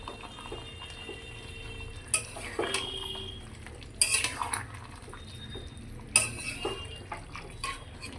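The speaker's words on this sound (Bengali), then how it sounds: "এবার আমি একটু ঢাকনা তুলে নেড়ে দেবো" A pot lid is lifted and a spoon scrapes and clinks as chicken do pyaza is stirred, cooking in its own onion and capsicum juices. Several sharp metallic knocks stand out over a low bubbling, close and with no voices.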